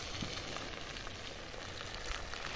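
Small local puti fish fry on a banana leaf as they are turned, giving a steady, close, even sizzle that continues without a break and with no voices over it.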